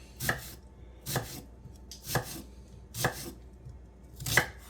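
A knife slices through food for Swiss steak on a cutting board, five separate sharp cuts landing at an even, unhurried pace, each a crisp thunk, close and with no talking.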